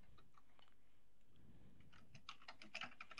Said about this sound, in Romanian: Sper să nu mi-auziți tastele.